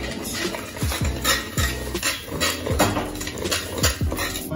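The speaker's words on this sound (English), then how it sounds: "Spoon is making too much noise" A metal spoon clanks repeatedly against a cooking pot while curry is stirred, giving a steady series of sharp, close clinks over a low background hum.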